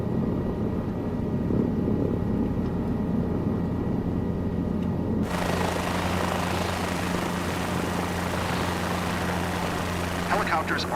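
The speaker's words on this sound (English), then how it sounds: "You have full control on the helicopter, and you are hovering all by yourself." A video game helicopter hovering: steady rotor drone with low throbbing hum continues throughout, growing brighter and noisier halfway through, with a voice talking underneath.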